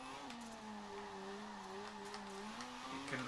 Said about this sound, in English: Just wheel spin for days.